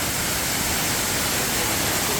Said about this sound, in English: we're going to check out the waterfall here